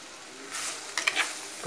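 Spices being stirred into beetroot curry in a frying pan: a soft sizzle, then scraping strokes and a few clicks of the utensil against the pan, close and brief.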